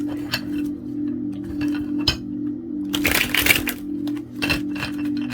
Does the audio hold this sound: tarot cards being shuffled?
yes